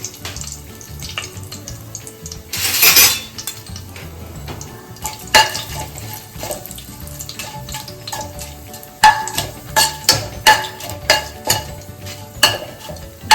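Whole spices such as cinnamon spluttering in hot oil for a mutton gravy: a loud hissing burst early on, then scattered sharp pops and crackles mixed with metal utensil clinks and knocks, with no voices.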